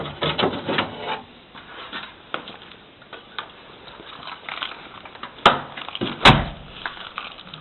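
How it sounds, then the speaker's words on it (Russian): A VAZ car door with a replaced lock cylinder is pushed shut. Two sharp, close latch clicks land about a second apart over a quiet background. "Закрываем дверь."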